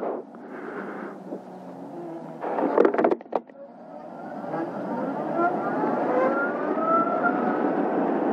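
Zero SR/S electric motorcycles ridden at a demo event, a rising electric motor whine that builds and holds for several seconds after a brief burst of clattering noise, moderately close, with faint background voices.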